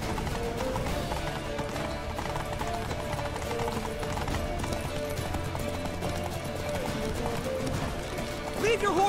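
A horse gallops in The Witcher 3 video game, its rhythmic hoof clip-clop running steadily under a dense, loud mix of music, effects and shouted character voices.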